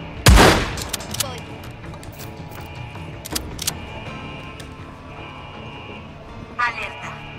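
Gunfire in the video game Days Gone: a sharp loud burst of shots opens, then scattered single reports and further cracks over game ambience, with voices talking.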